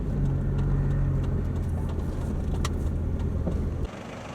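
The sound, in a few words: Suzuki Boulevard C50 motorcycle engine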